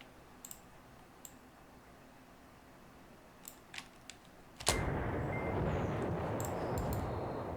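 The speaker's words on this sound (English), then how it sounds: "That artillery is going to hit them while they're pulling out." Artillery fire in the wargame Command Ops 2: a few faint distant clicks and thumps, then a sudden loud broadband barrage that rumbles on steadily to the end.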